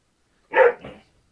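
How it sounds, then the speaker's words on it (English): One close dog bark followed by a softer second yelp, short and isolated against silence, from a noisy household dog in the background of a card-game session. "really noisy barky dogs right now."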